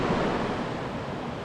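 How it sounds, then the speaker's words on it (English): River rapids on a backcountry canoe trip give off a dense, broadband rush of water, steady and fairly loud, with some wind buffeting on the microphone and no talking. "there's the rapid"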